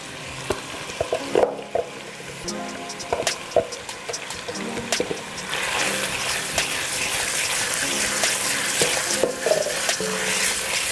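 Diced onion hits browned sausage in a pot and sizzles. Stirring scrapes and clatters come first, then a steady frying hiss swells and holds, broken by occasional utensil knocks.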